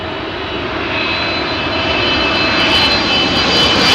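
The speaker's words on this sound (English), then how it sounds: "It's China Eastern special livery in from Shanghai then." China Eastern jet in special Panda livery arriving at London Heathrow from Shanghai, a steady, loud engine roar passing overhead on approach to runway 27L, swelling slightly toward the end.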